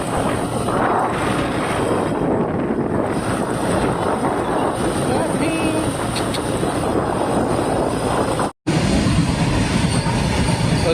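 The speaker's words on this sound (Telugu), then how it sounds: "రైల్వే గేట్ పడింది మాట ఇప్పుడే ఇంకా ట్రైన్ వెళ్తా ఉంది" Train passing a railway crossing with the gate down, a loud, continuous rumble of rolling wagons and wheel noise across the whole stretch, with one brief dropout near the end.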